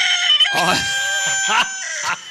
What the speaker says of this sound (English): Oleg, is that your chicken out there? Yeah, it's a rooster.